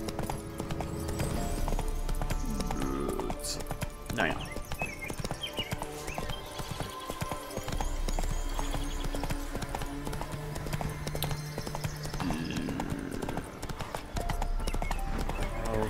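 Geralt's horse in The Witcher 3 trots along with a steady clip-clop of hooves, joined by an occasional whinny and background game music, while someone comments briefly.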